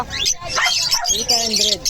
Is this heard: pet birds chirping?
yes